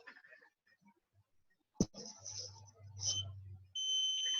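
An electronic meter sets off a steady, loud high-pitched beep near the end, after a sharp click and some low rumbling handling noise.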